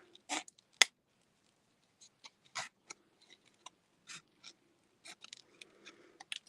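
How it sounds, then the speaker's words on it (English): Serrated scissors snip through a sheet of shrink plastic as it cracks, giving quiet, crisp clicks spaced irregularly and close up. No voices. "The serrated scissors aren't great on shrink plastic."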